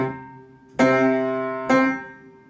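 Both hands strike a tuned instrument in a practiced rhythm, producing two loud, ringing chords about a second apart. Each chord decays slowly. No voices are heard.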